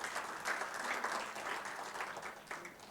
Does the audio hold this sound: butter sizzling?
no